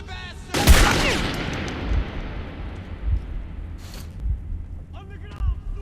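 Gunfire in Metro 2033, a post-apocalyptic first-person shooter: a loud blast then repeated bursts of shots continuing through the clip, with shouting voices heard between them.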